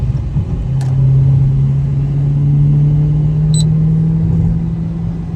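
A Dodge Hellcat pulls hard through the gears on a hot day, its engine a loud, steady low drone that climbs slowly in pitch over several seconds, with no talking.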